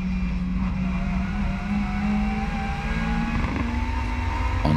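A WTCC touring car at full throttle on the Nordschleife gives a loud, sustained engine roar with a steady high-revving drone, close and continuous, briefly dipping as the pitch shifts near the end.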